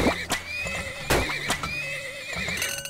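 Horses in the oil-drilling video game Turmoil whinnying loudly and repeatedly, with clip-clop hoofbeats and sharp thuds between the calls, close up and with no speech.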